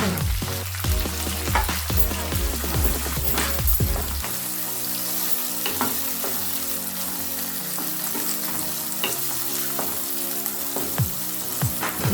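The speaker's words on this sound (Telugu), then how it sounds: "పచ్చిమిరపకాయలు కొంచెం వేసి ఉల్లిపాయలు వేసుకున్నాం." Green chillies and onions fry loudly in a pan for a cauliflower-potato curry, a dense, crackling sizzle that runs the whole time, with occasional stirring scrapes and no voices.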